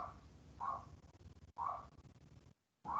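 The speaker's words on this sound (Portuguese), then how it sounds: "Estão ouvindo um cachorro latindo aí?" A neighbor's dog barks in short repeated bursts from a moderate distance, fairly faint, with brief quiet gaps between barks.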